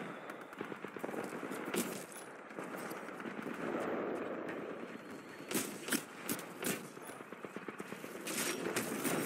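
Gunfire in the video game Titanfall 2, including shotgun fire, comes as rapid bursts and separate cracks over steady game noise, quieter in places and then sharp, clustered volleys near the end.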